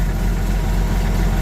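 An old hand tractor used for haying runs at idle, its engine giving a steady, loud, low rumble with constant vibration and no break throughout, close to the machine.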